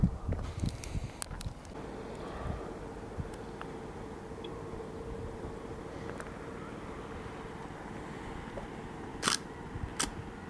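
Hasselblad 500 C/M medium-format film camera firing outdoors near a beach hilltop, a few sharp mechanical clicks and clacks standing out above a faint steady background of wind and distant ambience.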